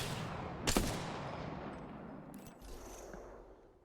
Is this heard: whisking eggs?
no